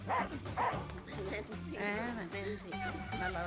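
A dog yips and barks in a Tamil comedy film scene, with several short, moderately loud, tonal yelps mixed in with people talking throughout.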